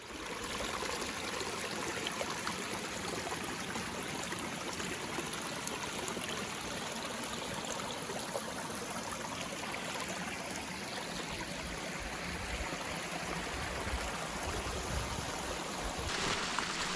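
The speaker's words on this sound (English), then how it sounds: "too close to this river here" A river rushes steadily beside a snowy mountain campsite, a constant, full broadband flow of water that stays loud and unbroken throughout with no voices.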